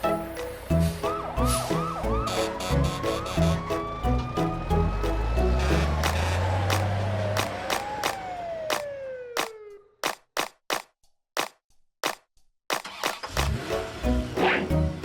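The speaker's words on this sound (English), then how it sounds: "Ambulance." A toy-cartoon ambulance siren wails in rising and falling sweeps over busy clattering effects, then gives way to a run of sharp, evenly spaced clicks and pops.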